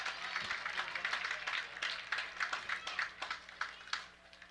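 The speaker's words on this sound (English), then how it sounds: "Crowd getting into it now" Baseball crowd at a Michigan versus Rutgers college game clapping in a steady rhythmic pattern, faint and distant, building tension late in a tied ninth inning.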